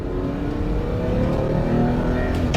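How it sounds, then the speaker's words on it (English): A 1985 Mercedes-Benz 280SL from the 107 series drives along as its engine climbs in revs, a steady close drone with road rumble beneath. "Once you begin to rev it a bit, it goes nicely."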